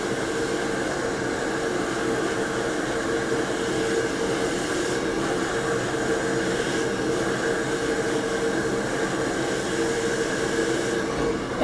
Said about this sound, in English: I'm going to be working the brush and blow dryer pointing down